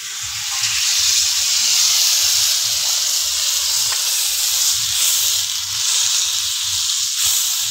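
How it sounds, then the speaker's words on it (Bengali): Water poured into a hot pan of curry for a light fish and papaya gravy, giving a loud, steady hiss of steam and sizzling that continues throughout, with low background murmurs. "এবার আমি জল দিয়ে দিব"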